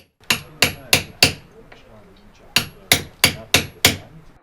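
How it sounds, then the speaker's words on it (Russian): A stonemason dresses stone with a traditional hammer and chisel at a restoration masonry school in the mountains of Ingushetia. Sharp, ringing strikes come close and loud: four in a steady rhythm, a pause, then five more. "Орудиями каменщиков служат кирки, молотки и зубила."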